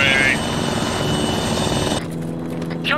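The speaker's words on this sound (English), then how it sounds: "Coming in close, helicopter!" Military helicopter in the Arma 3 combat game flying in close, a loud, steady rotor and engine roar that cuts off abruptly partway through, leaving a quieter hum with a brief whine near the end.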